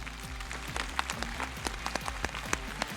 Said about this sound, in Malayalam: അപ്പൊ ഒരു നല്ല കയ്യടി കൊടുക്കണം